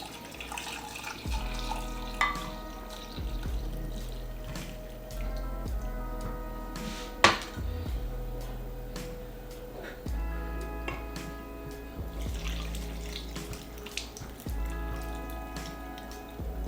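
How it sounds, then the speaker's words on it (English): Shrimp pickling brine poured from a container into another in a home kitchen, a steady liquid splashing and trickling for about sixteen seconds with faint clinks and a sharp knock partway through, no talk. "then we're just gonna pour this brine in here without spilling it."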